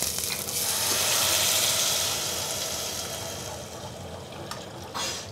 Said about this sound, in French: Et on remplit ça d'eau.